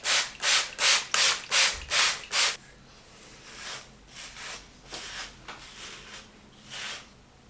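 A hairbrush drawn through short, wet, coily hair slicked with cream and wax for a sleek bun, making close, loud rhythmic swishing strokes, seven quick ones followed by slower, softer brushing.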